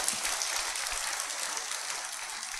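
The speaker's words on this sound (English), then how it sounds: "Clap for yourself one more time." A church congregation claps together during a sermon, a dense, steady wash of many hands that stays loud and even throughout with almost no talk over it.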